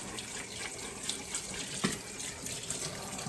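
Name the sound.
water running in sink, washing with soap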